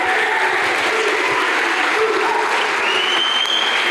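A crowd at a boot camp training event applauds loudly and continuously, a dense wash of clapping with faint voices mixed in throughout.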